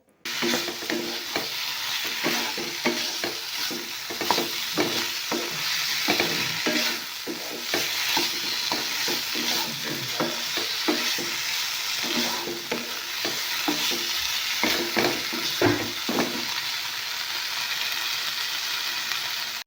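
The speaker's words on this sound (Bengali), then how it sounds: "আমি ভালো করে মশলার সাথে টমেটো আর বেগুনগুলো কষাবো" Tomatoes and eggplant stir-fried with spices sizzle steadily in a pan, with a spatula scraping and clattering in an irregular rhythm close by, continuous throughout with no talking.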